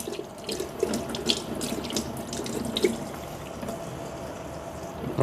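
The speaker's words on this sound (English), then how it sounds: "I'm just going to give it a quick rinse" Tap water running over a Delta Press coffee maker and its paper filter during a quick rinse, a steady splashing flow into a sink, close and continuous.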